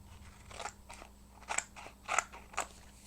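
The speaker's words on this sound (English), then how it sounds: "I'm going to go ahead and grab my wallpaper and trim it out." Scissors trimming wallpaper paper, about five crisp close snips in an uneven rhythm, each a short crunchy cut with no talk.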